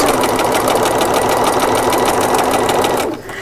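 Sewing machine stitching fabric around a drawstring bag, a loud, steady, rapid mechanical chatter running continuously and then stopping just before the end.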